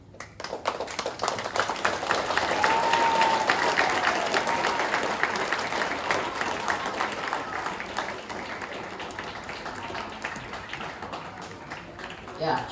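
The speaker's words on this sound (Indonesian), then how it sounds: "Kita berikan aplaus." Sustained applause from a crowd at an Indonesian school Independence Day flag ceremony, dense clapping swelling over the first few seconds and then slowly thinning out, with a brief flourish at the end.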